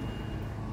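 A large cement truck at a construction site, its steady reversing beep tone over a low diesel engine rumble, close and continuous, no one talking.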